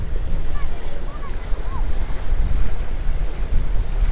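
Steady wind buffets the microphone beside the sea at Torquay harbour, with surf washing continuously and faint high gull-like cries drifting over the broadband roar.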